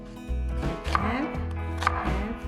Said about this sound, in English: The first ingredient is the onion. I will cut half